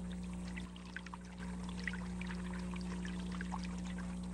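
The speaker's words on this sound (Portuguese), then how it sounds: "O peso insignificante desse jato d'água consegue deslocar as alavancas do moinho." A small water jet pours steadily onto the levers of a mill, a continuous splashing trickle with scattered droplet spatters over a low steady hum, fairly quiet and unbroken.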